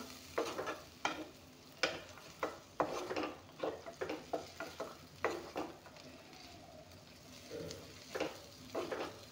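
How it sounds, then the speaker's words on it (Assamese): A carrot dish is stirred in a frying pan with a utensil, giving a string of close, crisp scraping strokes at an uneven rhythm over a soft, steady sizzle. "এতিয়া অলপমান লাৰি দিম।"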